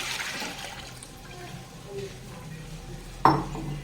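Milk is poured into a pot sitting on a lit gas stove, a soft, steady liquid rush up close that ends with a single metallic clank of the pot.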